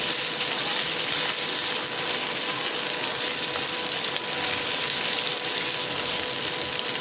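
Chopped tomatoes frying in oil in a home-kitchen pan, a steady, dense sizzle that holds at an even level throughout with no talking.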